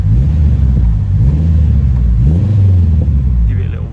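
Turbocharged Honda Integra DC5 engine, suspected of a fault that makes it puff smoke, idling with a deep rumble before a couple of short blips of the throttle rise and fall in pitch, heard close up with a voice speaking over it.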